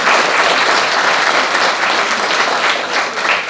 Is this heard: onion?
no